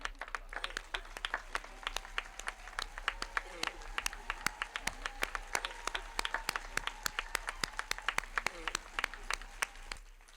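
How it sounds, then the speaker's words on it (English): Audience at a commencement ceremony applauding the faculty, a long run of many sharp, closely spaced claps that holds steady for about ten seconds. "please stand and receive a round of applause for our"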